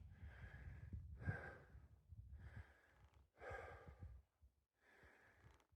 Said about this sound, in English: Sorry for the panting.